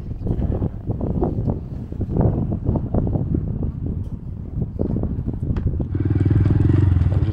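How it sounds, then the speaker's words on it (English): A Honda Monkey motorcycle at a dragon rally passing close by, with a rough, rising engine drone buffeted by wind noise. "Bike."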